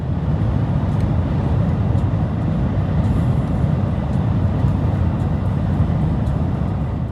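A car drives a long featureless road on the Yorke Peninsula toward Edithburgh, with a loud steady low rumble of engine and tyre roar continuing throughout, no speech over it.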